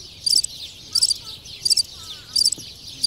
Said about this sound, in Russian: Чудесные, чудесные такие птички зеленые.